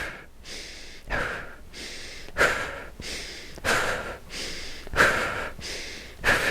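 Slow, steady yoga breathing paced with lifting and lowering the arms, about five long inhales and exhales in an even rhythm, close and clearly audible with no talk.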